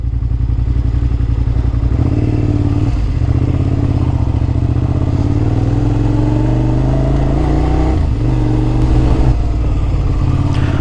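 A Suzuki SV650 motorcycle with its air box snorkel removed runs loud and close while riding, revving up and easing off in several swells, with a steady throbbing rumble underneath.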